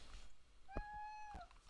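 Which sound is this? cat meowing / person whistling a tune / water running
cat meowing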